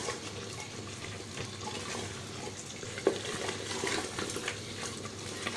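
Soft, continuous sizzling and bubbling of taro root pieces frying in a pot, with occasional stirring clinks and scrapes, fairly quiet and close.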